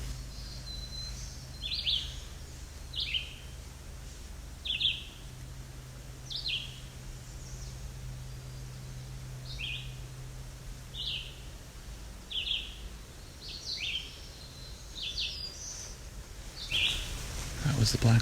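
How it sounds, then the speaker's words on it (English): Short, buzzy rising phrases of a black-throated blue warbler repeat every couple of seconds at moderate distance, fairly quiet over a soft outdoor background with a low hum. "That was the black-throated blue again."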